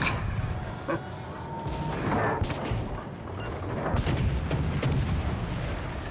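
Rapid gunfire from an Atlanta cruiser's guns shooting at a destroyer in World of Warships Legends, a steady barrage of sharp reports over a rumbling background.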